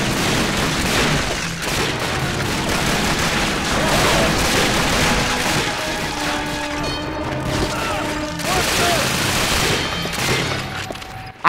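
Rapid bursts of gunfire and crashing impacts fill a night mission in the video game Call of Duty: Finest Hours, dense and loud throughout, with brief tonal game sounds mid-clip and a final sharp shot.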